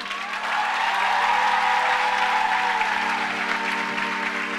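A church congregation applauding in a dense, steady burst of clapping that fills the room for several seconds, with faint cheering mixed in.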